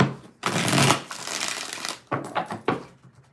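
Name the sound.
shuffling tarot cards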